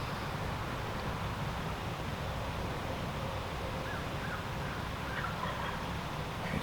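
Wild turkeys gobbling faintly in distant steep, narrow woods on opening day of the New York turkey season, brief rattling calls emerging late over a steady background hiss with no one speaking.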